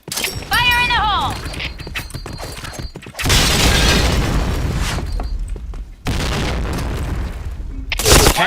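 Grenade blasts in a first-person shooter video game, several loud booming bursts with long rumbling decays, broken up by short clicks and mechanical clatter, with a brief whistling tone near the start.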